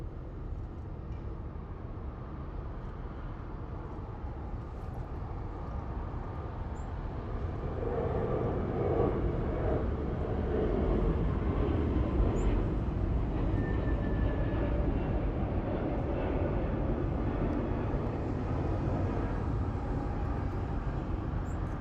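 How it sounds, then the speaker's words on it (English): An Alaska Airlines airliner in a special livery departs Los Angeles International Airport, its engines a steady broad roar that swells after the first few seconds and holds loud with no talking. "I think we're going to get a nice south side departure here of our Alaska Toontown livery"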